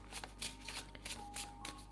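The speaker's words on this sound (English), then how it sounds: "shuffling cards for 3 piles." Tarot cards are shuffled by hand in a rapid run of crisp riffling and sliding bursts, near and steady, with no talking.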